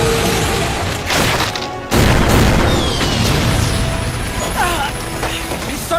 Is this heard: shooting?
yes